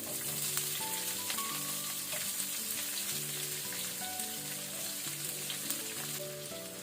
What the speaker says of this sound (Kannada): ಇದನ್ನು ಒಳ್ಳೆ ಕಲರ್ ಚೇಂಜ್ ಆಗೋ ತನಕ ನಾವು ಫ್ರೈ ಮಾಡಬೇಕು